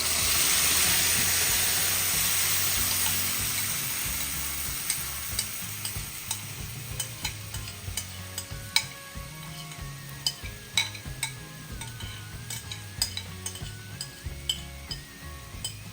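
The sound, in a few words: frying in hot oil while stirring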